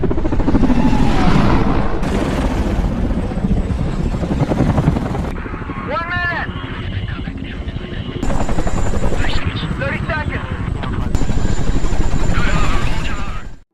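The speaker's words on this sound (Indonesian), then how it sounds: "Berangkat dari pangkalan udara Bagram dengan menggunakan 2 helikopter Chinook dan 2 helikopter Apache" Chinook and Apache military helicopters fly from Bagram airbase toward hilly Afghan terrain in a film scene, a loud, continuous rotor thump and engine roar that persists throughout, with brief high synthetic swoops layered over it.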